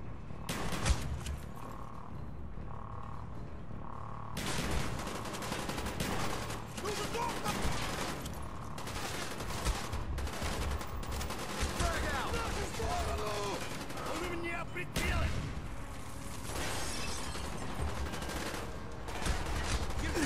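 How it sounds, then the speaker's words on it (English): Gunfire in Call of Duty Black Ops, a sustained barrage of repeated shots with mechanical clatter that runs steadily through the clip, loud and dense, mixed with game effects. "Because I shot at the scientist again."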